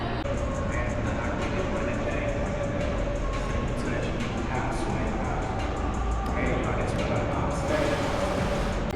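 The Canyon Blaster roller coaster at Las Vegas rumbles along its track with a steady rolling roar and rhythmic clacking. People talk nearby over the noise.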